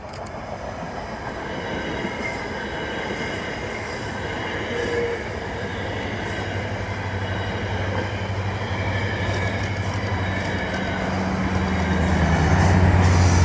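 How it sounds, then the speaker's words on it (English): A CSX freight train passes southbound near Long Bridge and Potomac Yard in Washington DC, a loud, continuous rail rumble with squealing wheels that grows steadily louder over the stretch. "CSX was the next to pass, southbound."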